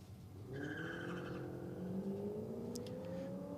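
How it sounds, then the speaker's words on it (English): Holden drag race car at a drag strip, spinning its tyres: a loud, steady engine roar with a rising pitch that swells in after half a second and holds to the end, with no talking. "Quick little turn of the tyres."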